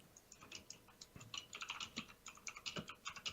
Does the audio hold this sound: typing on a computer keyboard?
yes